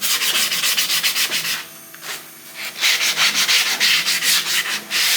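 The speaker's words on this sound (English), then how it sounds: "Now to kind of blend all that, I use a sponge sander" A sponge sander rubs over a cedar Strat-style guitar body in steady, loud back-and-forth strokes, briefly pausing midway before the scratchy rhythm resumes.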